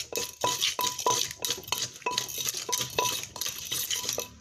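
A pestle mixes santol salad with field crab in a mortar, giving rhythmic, closely miked knocks and clinks at a steady pace, about a dozen strokes with short scraping stirs in between.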